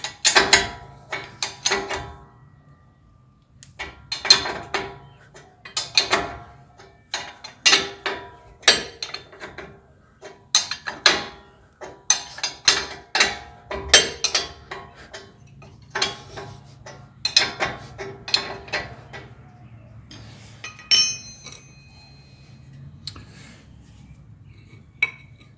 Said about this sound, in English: we're going to loosen the lower ball joint nut